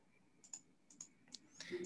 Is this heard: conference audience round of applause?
no